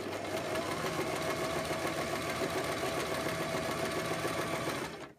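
A sewing machine runs steadily for about five seconds, stitching through gathered layers of ruffle skirt fabric with a continuous fast mechanical whir and rhythmic needle chatter, then slows to a stop at the end.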